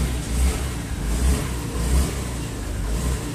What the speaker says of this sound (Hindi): तो ये गाड़ी स्टार्ट हो चुकी है